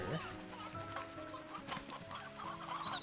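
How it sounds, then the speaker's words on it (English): Chickens cluck in the video game Slime Rancher 2, several birds close together in a steady, busy chorus over a dense game soundtrack. "And oh, so many chickens over here."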